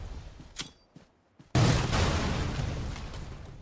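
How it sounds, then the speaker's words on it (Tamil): In the BGMI battle royale game, two cars explode: after a few sharp shots and a brief lull, a sudden loud blast erupts and rumbles on with a sustained, roaring tail. "கார் ரெண்டு வெடிக்க வைக்கறாங்க"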